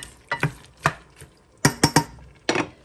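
A lid clattering and settling onto a pot of simmering igado in a home kitchen, a series of sharp close metallic knocks and clanks, some in quick pairs.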